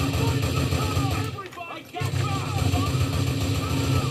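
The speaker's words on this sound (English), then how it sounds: "Oh, they use an MP5, did you hear it?" Automatic MP5 submachine gun fire in the game GTA IV, loud sustained bursts with a brief lull in the middle, mixed with other combat noise and a voice talking over it.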